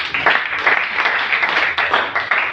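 A church congregation claps for Jesus, a dense burst of steady applause from many hands in a reverberant room, continuous throughout.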